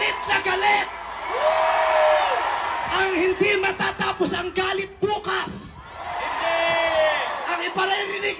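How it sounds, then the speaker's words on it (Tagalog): An angry crowd at a speech against corrupt politicians yells and whoops in loud, sustained bursts that rise and fall, with several raised voices bellowing together close by. "Sumigaw lahat ng galit!"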